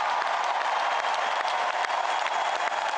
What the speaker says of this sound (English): Hillary Clinton brought people to thunderous applause